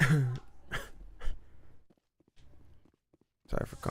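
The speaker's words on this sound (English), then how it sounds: "Sorry for coughing into the mic." A man coughs several times close into a microphone, short rough bursts spaced over a few seconds with quiet gaps, followed by a brief louder noisy stretch at the end.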